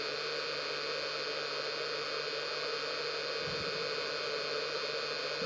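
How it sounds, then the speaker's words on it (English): An off-grid power inverter and charge controller give a steady electrical hum blended with the broad whooshing drone of their cooling fans, constant and unchanging throughout, with a faint low thump near the end. "I don't know if you can hear the inverter in the background kicked on."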